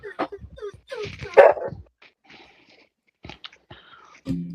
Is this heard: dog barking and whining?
yes